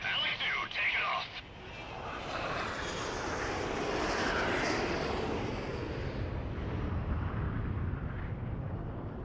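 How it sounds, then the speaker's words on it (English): Fighter jets take off in the Ace Combat video game, their engines giving a loud continuous roar that swells and holds steady to the end. "Elect 1 taking off. Elect 2 taking off."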